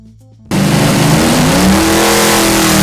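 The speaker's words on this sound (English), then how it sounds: "427 Big Block." A Ford 427 Big Block racing engine bursts into a loud, sustained rev after a brief quiet start, holding a steady, throaty roar close to the microphone.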